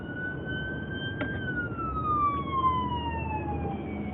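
An ambulance siren wails in a long, slowly falling tone as it passes through traffic, with steady road and engine noise from surrounding cars underneath and no talking.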